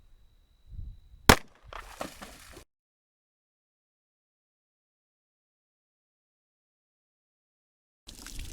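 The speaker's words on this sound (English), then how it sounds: "we're just going to step back and we're going to take our first shot" A 10mm pistol fires a single sharp, loud shot of Buffalo Bore 220gr hardcast into a simulated bone barrier, followed by brief rustling and then silence.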